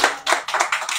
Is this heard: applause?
yes